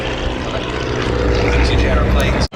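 Vintage Miles Magister monoplane propeller trainer flying at the Duxford air show, a loud droning engine and propeller buzz passing overhead, with a commentator talking over it.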